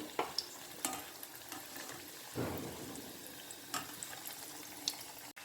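Soya cutlets frying in hot oil, a faint steady sizzle with occasional soft clicks and a brief louder rush midway.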